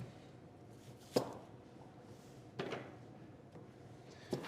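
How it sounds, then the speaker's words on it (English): A knife chops an onion on a cutting board with three separate, sharp, fairly soft knocks spaced over a few seconds in a quiet kitchen. "You just want to give it a quick chop. Doesn't have to be perfect."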